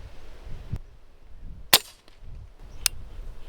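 Two sharp, quiet reports from a Rossi Brawler firing DoubleTap 300 Blackout subsonic ammunition, spaced about a second apart, outdoors with low wind rumble between shots and no talk.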